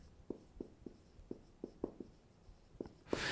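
Writing on a board during a health lecture, with a series of soft, separate strokes and taps at an irregular pace, close and quiet, ending in a brief louder rustle.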